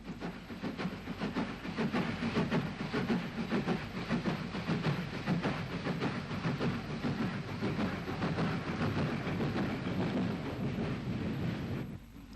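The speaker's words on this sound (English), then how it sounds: "A WT climbs away from the station with a Belfast to Dublin train." A WT steam locomotive hauls a Belfast to Dublin train up and away from a station, a steady hissing, rumbling chuff heard from a distance with wind buffeting the microphone throughout.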